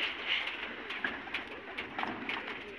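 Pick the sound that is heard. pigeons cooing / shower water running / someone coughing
pigeons cooing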